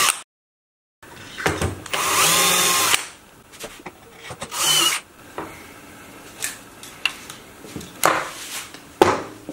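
A power drill with a 4 mm bit marks screw holes through a drawn template on a fan housing, heard as loud, close whirring bursts with quieter scraping and handling between them and no speech.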